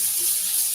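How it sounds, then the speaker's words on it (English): A kitchen tap runs as food is rinsed while a Cuban dinner is cooked. The water makes a steady, close, hissing stream throughout, with no voices. "Actually, let me rinse it because I might save some."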